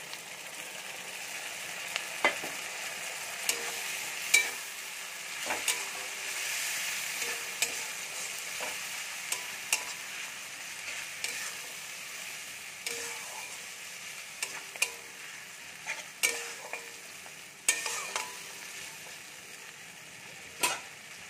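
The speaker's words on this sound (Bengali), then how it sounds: "এবারে আমি আদা রসুন কাঁচা লঙ্কা আর সঙ্গে আছে পেঁয়াজ পেস্টটা দিয়ে মশলাটা ভালো করে কষিয়ে নেব" A paste of ginger, garlic, green chilli and onion is stir-fried for curry, with a soft continuous sizzle and frequent sharp clicks and scrapes of a spatula against the pan. The frying is fairly faint and close.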